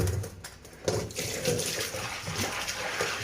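Tap water runs and splashes over a cast iron kadai freshly scrubbed with dish liquid, a steady close rush of rinsing with a louder surge of flow about a second in.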